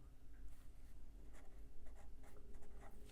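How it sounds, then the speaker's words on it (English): Pen nib scratching across sketchbook paper, a steady close run of soft writing strokes with a light papery rasp, faint and alone. "I'm going to write this here"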